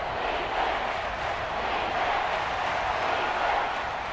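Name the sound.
stadium crowd noise in video game Madden NFL 24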